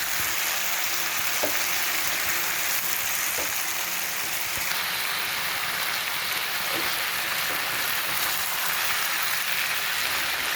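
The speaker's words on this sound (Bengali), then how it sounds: "হালকা হাতে নাড়াচাড়া করে খুব ভালোভাবে ভেজে নিতে হবে।" Boiled beans and potatoes fry in a pan in a village kitchen, giving a steady, dense sizzle with a few soft clicks of stirring, no one talking.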